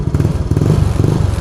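A Mio Soul i125 motorcycle engine fitted with an aftermarket Exos RX7 exhaust pipe idles close by with a loud, rapid, throbbing pulse.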